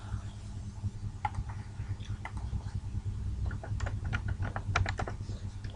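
Close computer keyboard typing while entering a password at a login page: a steady run of quick, light key clicks with irregular rhythm over a constant low hum, no voices.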